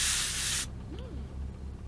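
A spray can used in a VR zombie survival video game, one loud close hiss lasting about half a second before cutting off abruptly into quiet room tone.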